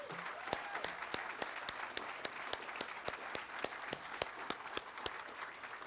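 An outdoor crowd at a ribbon-cutting ceremony claps for the musicians in steady, moderately distant applause, with a few sharp individual claps standing out from the general patter.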